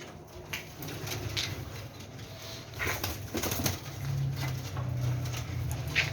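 Large Teddy-breed pigeons standing upright in their stands coo softly in low, repeated murmurs, with occasional wing flutters and clicks. The birds sound close and moderately loud, with no speech.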